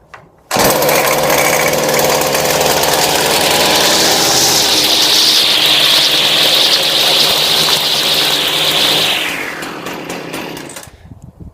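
A gas-powered steel string trimmer engine starts abruptly and runs at a loud, steady high-revving buzz for about nine seconds, then winds down and cuts off near the end, with no talking.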